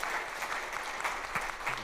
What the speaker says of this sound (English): I think Charles deserves a rousing round of applause for this fabulous presentation.